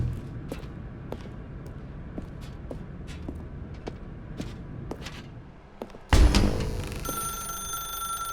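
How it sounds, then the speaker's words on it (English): Telephone ringing in the video game The Stanley Parable, a faint repeated ring at a regular rhythm inside a dark room over low ambience, followed by a louder thud and a sustained tone near the end. "Now pick up the phone"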